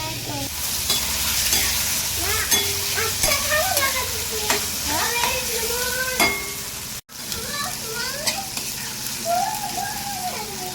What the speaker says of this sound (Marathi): कांदा टोमॅटो छान परतवले आहे